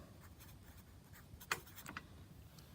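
A light blue marker writing on paper, a faint, close scratchy rubbing with a brief louder stroke near the middle, over a quiet room hum.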